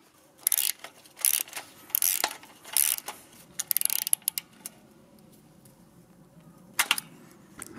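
Lidl Powerfix self-adjusting ratchet wrench clicking in a series of short, sharp ratchet bursts with irregular spacing and a quiet gap before a final burst, close and alone.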